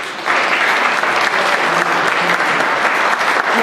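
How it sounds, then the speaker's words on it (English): Lecture attendees at a car museum break into a full round of applause for first-time visitors, loud, dense clapping that rises quickly and stays steady and close until the end, with no talking. "Let's give them a round of applause."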